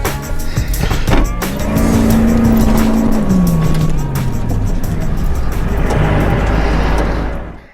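A 1990 welding truck backs into a low spot outdoors, its engine droning loud and steady with a rising then falling tone, tires and gravel crunching beneath, before the sound cuts off.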